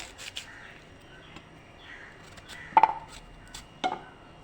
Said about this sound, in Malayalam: അത് നമുക്ക് ഇതുപോലെ നീളത്തിൽ അരിഞ്ഞെടുക്കാം